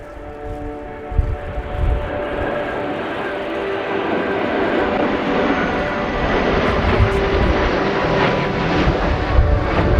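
Military jet flying past at the RIAT airshow during a NATO anniversary flypast, a loud roaring whine that swells and stays strong for the whole ten seconds, with no talk.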